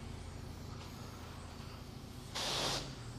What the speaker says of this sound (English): this is a weak-ass power washer